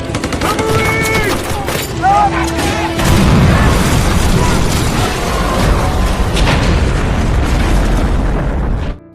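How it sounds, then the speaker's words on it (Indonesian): A gunfight scene from a war film, with loud continuous bursts of gunfire and booming blasts, and shouting voices mixed in over the first few seconds. "Baku tembak pun tak terhindarkan"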